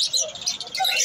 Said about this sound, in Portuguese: Só pássaro bonito.